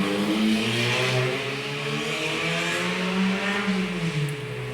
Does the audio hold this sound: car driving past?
yes